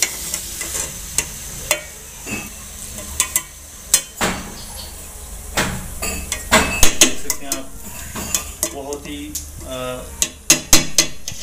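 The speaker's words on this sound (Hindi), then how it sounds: "ये मैक्रोनीज डाल ली इसमें, इसको अच्छे से भूनेंगे और मिक्स कर लेंगे अच्छी तरह से।" Macaroni frying and being stirred in a pan, with repeated sharp scrapes and clanks of a utensil against metal over a soft, continuous sizzle, close and fairly loud.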